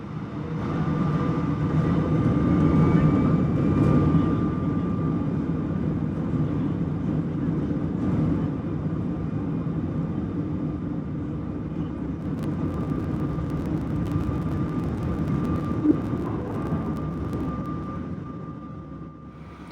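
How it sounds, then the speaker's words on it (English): A TAROM Airbus A318 on its takeoff roll heard from inside the cabin, a steady loud engine roar with a faint whine, swelling early and then holding as a continuous rumble. "in no time at all, we start the takeoff roll."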